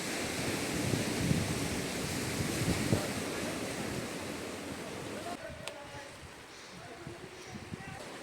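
Sea waves wash over a rocky Konkan shore in Ratnagiri, a continuous dense roar of surf with wind buffeting the microphone, easing slightly toward the end.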